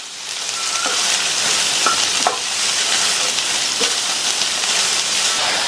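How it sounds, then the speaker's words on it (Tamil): Snake gourd pieces and onions sautéing in hot oil, a steady dense sizzle with occasional stirring scrapes and clicks, fairly close and continuous with no talk. "இது கூட கட் பண்ணி வச்ச புடலங்காயை சேர்த்துட்டு எண்ணெயிலேயே நல்லா 2 நிமிஷத்துக்கு இந்த புடலங்காயை வதக்கி விட்டுக்கங்க"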